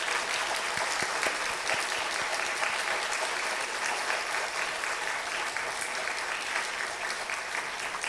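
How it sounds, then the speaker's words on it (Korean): Sustained applause from a church congregation at a Presbyterian Palm Sunday service, honoring newly baptized members; dense, steady clapping fills the room evenly from start to finish without pause. "박수로 한번 격려해 주시고"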